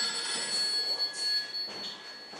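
A telephone rings nearby with a steady, high electronic trill that carries on for a couple of seconds, loud and alone with no one speaking.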